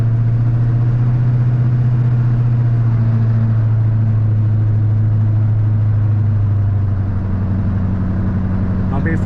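A 2003 GMC Sierra 2500 Duramax diesel pickup towing a heavy trailer gives a steady, loud low engine drone and road rumble from inside the cab, taking a corner slowly, while someone talks over it.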